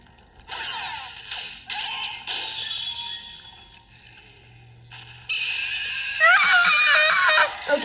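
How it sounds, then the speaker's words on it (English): Dino Piranha boss from Super Mario Galaxy letting out a loud, drawn-out shrieking scream in several bursts, rising into a harsh wavering wail near the end. "The scream is freaky."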